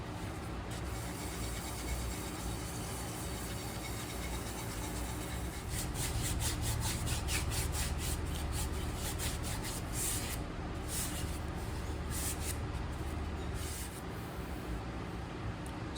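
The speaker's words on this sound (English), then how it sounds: "I like to follow that up with a really rough bit of Scotch-Brite to get down into the softer parts of the grain" A rough Scotch-Brite pad scrubs back and forth along an old wooden hammer handle, working into the soft grain; a steady close abrasive rasp that becomes rapid, rhythmic strokes partway through, with no talk.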